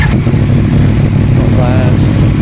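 A classic Norton Commando motorcycle engine running loud and close with a continuous throbbing roar, while a voice talks briefly over it.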